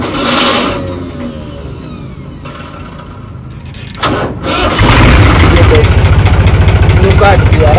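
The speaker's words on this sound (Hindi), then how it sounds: "इतना ये ट्रैक्टर की आवाज सुन तू" A tractor on a road near Rohtak, India, cranks and catches, then runs with a loud, close, rhythmic diesel throb. People talk over the quieter opening.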